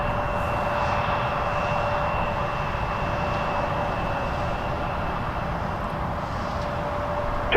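A Jazz airliner, flight 684 bound for Baltimore, taking off at Toronto Pearson Airport: a loud, steady engine roar with a sustained whining tone that holds without a break, and no voices.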